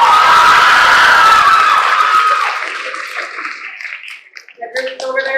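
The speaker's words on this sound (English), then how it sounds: "The group over there to the left is kind of scaring me with their screams" An audience group at a school poetry slam on a stage lets out loud, sustained high-pitched screams and cheering that fade over a few seconds into scattered shouts and voices.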